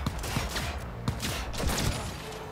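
Rapid bursts of gunfire from a powerful gun in Cyberpunk 2077, sharp repeated cracks in quick succession over a dense, busy game soundscape.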